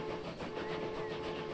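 A train riding along in the video game Transport Fever 2 gives a brief, steady rolling hum with a faint pulsing rhythm, moderately quiet and continuous with no talk over it.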